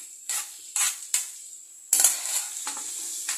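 Onion and tomato sautéing in a pan, with repeated scraping and stirring strokes of a utensil over a soft sizzle, several distinct strokes at uneven intervals, close by.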